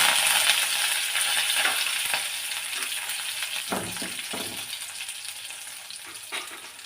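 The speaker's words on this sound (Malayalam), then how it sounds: "വറ്റൽമുളകും കറിവേപ്പിലയും കൂടെ ഇതിലിട്ട് കൊടുക്കുകയാണ്" Dried red chillies and curry leaves sizzle in hot oil with popped mustard seeds for Kerala-style pumpkin erissery. A loud, close crackling fry runs throughout, punctuated by light stirring clinks and scrapes.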